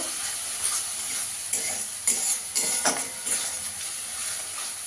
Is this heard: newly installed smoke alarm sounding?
no